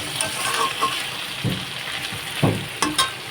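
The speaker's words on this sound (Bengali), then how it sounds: "আদা রসুন বাটাটা দিয়ে কিন্তু খানিকক্ষণ নাড়াচাড়া করে নেব" Ginger-garlic paste is stirred into pointed gourd and potatoes frying in a pan, a steady close sizzle punctuated by a few sharp scrapes and knocks of the stirring spoon.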